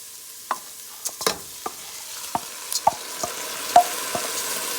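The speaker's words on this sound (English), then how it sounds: "I'm going to be adding the rice to the pot now." Washed rice is stirred into a pot of frying onions while cooking kitchri, giving soft scraping stir strokes and scattered clicks over a low, steady sizzle, close by and with no talking.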